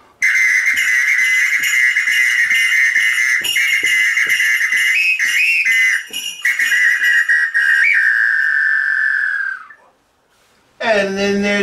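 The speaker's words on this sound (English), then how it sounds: "In Brazil, samba whistles." A Brazilian samba whistle blows loudly and near in a long, steady shrill tone with rhythmic pulses and brief breaks for nearly ten seconds, then stops before a short, sharp blast at the end.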